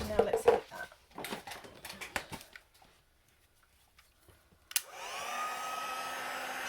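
A heat tool switches on for stamped card crafting, its steady blowing hiss rising abruptly after clattering handling noises and a quiet pause, then holding loud and constant to the end.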